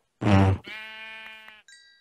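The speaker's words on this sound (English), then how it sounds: "Yo, I heard a sheep." A single loud Minecraft sheep bleat followed by a wavering tonal call, then a short electronic chime, close and clean, like game sound effects.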